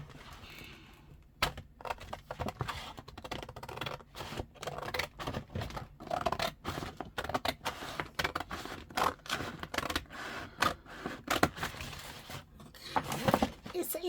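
Scissors snipping through a paper gift bag for a journal cover, rapid, close crunching cuts in irregular bursts that continue steadily, with speech in the background.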